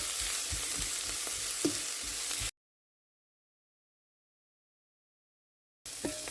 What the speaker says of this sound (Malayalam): ഇനി ഇത് നമുക്ക് നന്നായിട്ടൊന്ന് വഴറ്റിയെടുക്കാം.